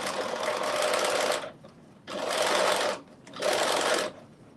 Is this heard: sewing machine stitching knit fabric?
yes